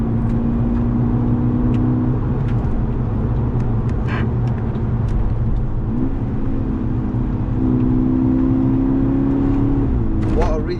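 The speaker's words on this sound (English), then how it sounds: "The car itself has got quite a nice sound" A Volkswagen Golf GTI Edition 35 Mk6 threading through corners, its engine a steady, close drone heard from inside, with the pitch stepping up and down as the driver eases on and off the throttle.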